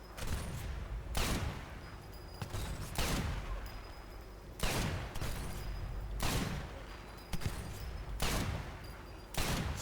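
Gunfire in the video game Sniper Elite 4, a loud burst-like shot roughly every second and a half across the stretch, each sharp crack trailing into a rumbling echo over steady background noise.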